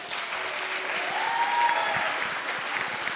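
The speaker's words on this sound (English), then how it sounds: "so please clap for her." Audience at a youth conference claps steadily and fairly loudly for a few seconds, with a brief whoop rising partway through.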